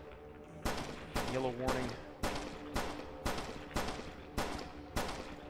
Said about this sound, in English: We're shooting at the floor.